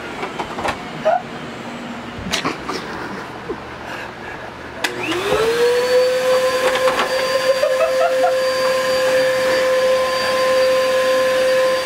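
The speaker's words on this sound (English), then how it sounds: "Yeah, this is a fucked up vacuum. This is not normal." A faulty vacuum cleaner in a dorm room starts up after some clattering and then runs loudly with a steady high-pitched whine.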